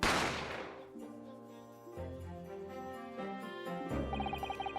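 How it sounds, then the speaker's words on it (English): A single sharp gunshot from the Great Ace Attorney video game cracks loudly at the start and decays into a sustained run of musical tones. "the sound of the gunshot had come from"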